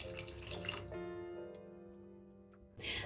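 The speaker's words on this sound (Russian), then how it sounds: "Поэтому я добавляю еще немного холодной воды." Cold water poured into a thick orange sauce for a Turkish celery dish, a steady trickling pour with a ringing, rising tone that runs for about three seconds before stopping.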